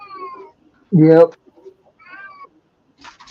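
A cat gives one loud, close meow amid quiet pauses, with brief speech heard around it.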